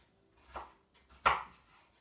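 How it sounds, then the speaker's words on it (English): A knife chopping onions on a board for a springtime risotto: two separate dull thuds about three-quarters of a second apart, the second louder, close and alone with no talk. "So we're going to cut our onions fairly small"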